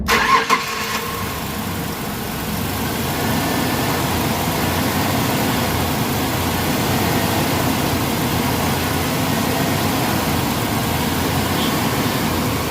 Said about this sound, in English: we're going to start a vehicle right now